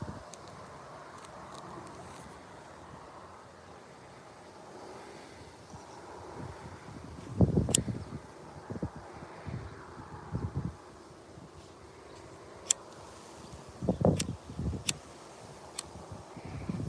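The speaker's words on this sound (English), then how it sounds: "It's a little windy in the meadows." Wind blowing across an open meadow, a low gusty rumble against the microphone that swells in a few bursts, with faint rustling and no talk.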